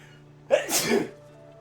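A single sharp sneeze bursts out close by, a quick intake followed by a loud explosive release, then quiet.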